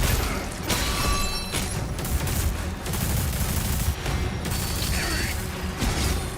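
Gunfire from the video game DOOM: The Dark Ages, a dense rattling of rapid shots running almost nonstop alongside a steady bed of game sound and effects.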